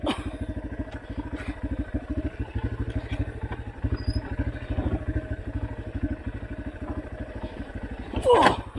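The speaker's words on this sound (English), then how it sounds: "Ignore the grinding noises coming from the bottom of the bike" A motorcycle on a trail ride, its engine chugging in a fast regular pulse close by, with rough grinding and clattering from underneath the bike throughout and a brief sharper burst near the end.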